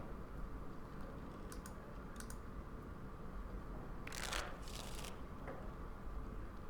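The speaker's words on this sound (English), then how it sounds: "I will shuffle the cards." Cards are shuffled in the Dragon Age Origins video game, heard as soft quick riffling bursts and clicks, the strongest burst near the end, faint over a constant noisy background.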